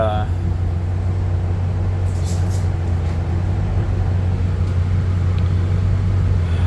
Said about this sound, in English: you're just bouncing off rev limiter